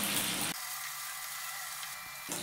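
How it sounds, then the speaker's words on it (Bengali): Bele fish sizzling in hot oil as the pieces are flipped, with a steady close frying hiss that dips as they turn and surges again at the end. "এবার মাছগুলোকে আমি উল্টে দিচ্ছি"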